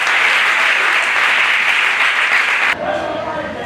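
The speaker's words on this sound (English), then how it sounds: "Let's keep clapping for the ladies coming." Crowd applause at a women's football celebration event, loud and steady for nearly three seconds before dropping sharply to a quieter background of scattered sound.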